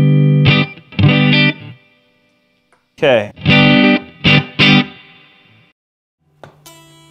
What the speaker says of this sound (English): We're going to add Electro Harmonix Holy Grail Reverb just to get a splash of reverb.